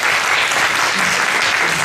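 Children's audience clapping together, steady dense applause filling the whole moment, close and loud.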